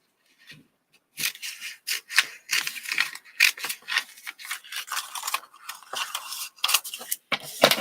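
Scissors snip through craft card in a series of short, crisp cuts close to the microphone, irregular bursts of rasping slices following one another after a brief quiet start.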